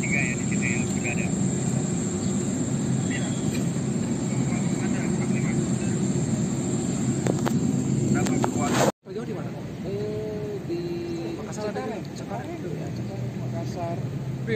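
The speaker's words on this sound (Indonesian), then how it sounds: "Yang pesawat dari Amerika dia sedang naik di sini." American military airplane at an airbase in Bali during the 2022 G20 summit, a loud continuous engine roar, with a brief cut partway and then a different engine drone as someone talks over it.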